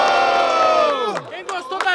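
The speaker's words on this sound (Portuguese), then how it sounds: "Quem gostou das rimas do AJS faz muito barulho" A crowd at a student rap battle in Guarulhos, Brazil cheers and shouts loudly, a sustained roar with bursts of yelling that swell and fade in waves.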